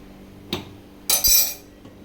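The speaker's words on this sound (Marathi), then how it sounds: "परत आपण झाकण ठेवू त्याच्यावर" A metal lid goes onto a pot of boiling Hakka noodles with a soft clink, then a louder metallic clatter and brief rattle as it settles, close and short.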